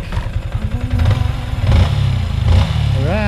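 A Yamaha Sniper 155 motorcycle engine, about three and a half years old with a stuck tensioner, revs up close, rising and falling in a few throttle bursts over a clattering idle, ending with a climbing whine.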